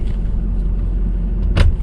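A massive pickup truck on a farm rumbles steadily as it drives, with a low continuous engine drone and a brief rattling thump near the end.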